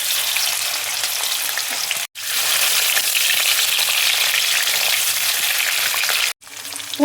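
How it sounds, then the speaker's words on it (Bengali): Paneer cubes frying in hot oil in a kadai, a loud, steady broadband sizzle running continuously with two brief cut-off gaps, no talking. "কড়াইয়ে দেখো তেল দিয়েছি, তেল দেখো গরম হয়ে গেছে। এবার আমি পনিরটা দেখো দিয়ে দিচ্ছি।"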